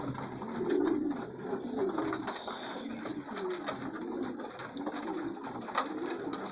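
Pigeons coo softly and repeatedly nearby, a low burbling murmur rising and falling with faint background rustle and no speech.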